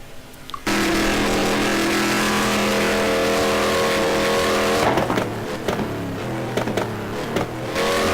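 Race car engine from a Daytona road course racing game, a steady loud engine drone holding tone through the bus stop chicane, then dropping and shifting pitch as the car brakes and turns, continuous with no talk.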